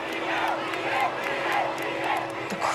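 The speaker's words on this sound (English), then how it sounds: "The crowd going mad for me" A large crowd in São Paulo roars and cheers continuously, dense and loud throughout, with rhythmic surges of chanting rising and falling.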